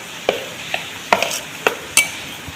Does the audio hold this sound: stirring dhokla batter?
yes